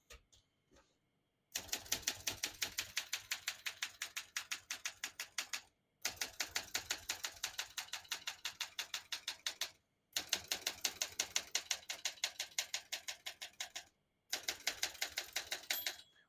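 Keys strike sharply on a 1965 Olympia SM9 portable typewriter in rapid, even bursts of clacking separated by short pauses, close and crisp, with a few lighter mechanical clicks at the start.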